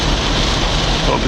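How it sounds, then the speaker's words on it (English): Heavy rain pours steadily as a dense, loud hiss heard from inside a taxi, with no break during the short stretch. "look at this rain, it's ridiculous"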